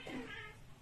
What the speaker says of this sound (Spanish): Mi Michi, no quiere estar acá